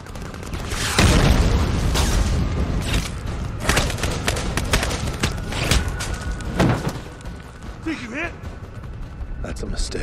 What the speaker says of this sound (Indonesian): Deru suara peluru memecah keheningan malam.